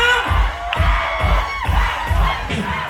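A crowd of barangay supporters in Pasig City shouts a rhythmic cheer, loud repeated bursts of massed voices roughly every half second, close and energetic with whoops mixed in.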